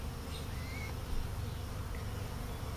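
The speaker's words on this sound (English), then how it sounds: "But this is really a busy little hive." Bees buzzing steadily in a busy hive, a dense, continuous drone that stays even throughout with no voices.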